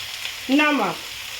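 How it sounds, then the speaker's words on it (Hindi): Chicken frying in a pan for biryani gives a short burst of sizzling, loud and close, rising and fading within about half a second, with no voices. "आप लोग देख सकते हैं चिकन को मैं अच्छी तरह भून ली हूँ।"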